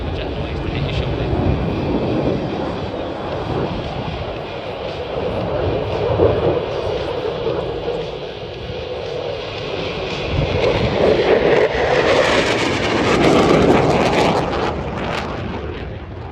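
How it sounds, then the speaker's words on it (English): A Eurofighter Typhoon FGR4 jet performs at an airshow, making a loud, continuous roar that swells and fades as it passes, with the crowd in the background. "wait for jet noise to hit your shoulder."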